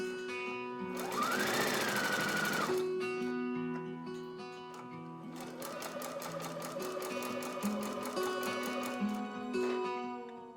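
A sewing machine stitches the darts of a blouse in short close bursts, with a steady whirring run, a pause, then a longer run.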